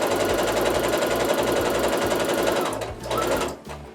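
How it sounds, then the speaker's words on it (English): A sewing machine stitching a quarter-inch quilting seam on a quilt block, running in a fast, steady mechanical rattle for nearly three seconds, briefly slowing and pausing, then a short final burst. "Now we can start sewing our 1/4-inch seam."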